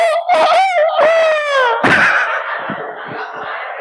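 A voice imitates a chicken: drawn-out, wavering squawking calls with a strained, nasal quality, followed by a short rough burst and fading noise, loud and close.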